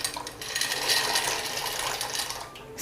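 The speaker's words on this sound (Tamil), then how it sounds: "அதில் நான் ஒரு 3 கப் பாஸ்தாவை சேர்க்குறேன் கொதிக்கிற தண்ணியில்." Three cups of dry pasta rattle and hiss as they pour into a pot of boiling water, a steady clattering rush lasting a few seconds.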